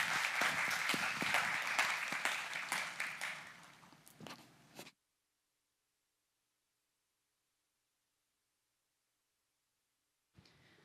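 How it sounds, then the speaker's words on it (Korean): Applause from a church congregation welcoming a speaker, brisk and close for about four seconds, tapering to a few last claps before silence and a faint stir at the end. "우리 나오실 때 박수로 환영하겠습니다."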